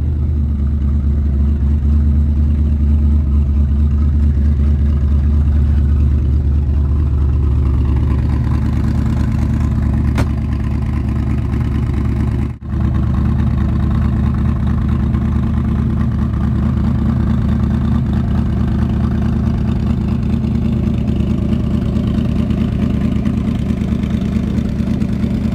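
A 1978 AC Cobra by RAM continuation model sits idling after start-up, its deep, steady exhaust burble loud and close, with a brief dip partway through before the rumble carries on unchanged.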